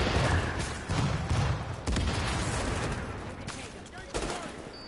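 Automated turret gunfire in The Division, a dense, continuous rattle of rapid shots with periodic louder bursts, fairly distant and mixed into game ambience.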